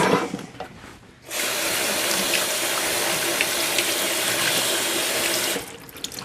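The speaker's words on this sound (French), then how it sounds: "On rince le bocal." Running tap water rinsing a jar used for fruit kefir grains: after a second of light handling clatter, a loud steady gush of water pours continuously for about four seconds, then cuts off, leaving faint drips.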